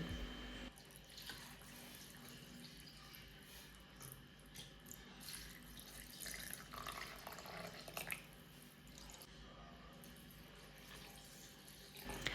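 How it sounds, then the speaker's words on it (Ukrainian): Broth poured from a pot into bowls of cooked meat for homemade jellied meat, a continuous soft trickling and splashing of liquid lasting several seconds with faint clinks, fairly quiet and with no talk. "В миску до м'яса тепер я виливаю бульйон."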